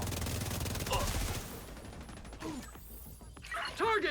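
Rapid bursts of automatic gunfire rattle through a first-person shooter game, dense and close at first, then thinning into scattered shots. A voice speaks over the shooting now and then.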